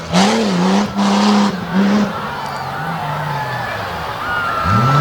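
A dirt race car at the Renegade MTT meet in Abbottstown, PA slides as its rear end swings around, engine wailing and shifting pitch, loud and close under an announcer's voice.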